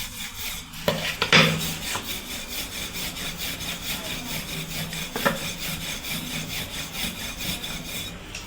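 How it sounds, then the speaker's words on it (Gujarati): A rolling pin works bottle gourd thepla dough on a board, producing repeated soft rubbing and scraping strokes up close, with a few sharper knocks between passes. "હવે આપણે તેને વણી લઈશું વેલણની મદદથી"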